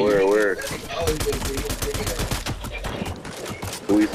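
Rapid bursts of gunfire in Fortnite, a clustered volley of sharp shots in quick succession with voices talking over parts of it.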